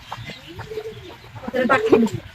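A pigeon coos softly nearby in a low, rolling rhythm, followed by a louder burst of cooing; faint background noise of an outdoor morning.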